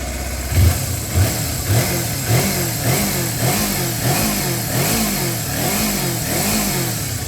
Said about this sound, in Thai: เดี๋ยวลองมาเร่งเครื่องฟังเสียงเครื่องดีกว่าครับ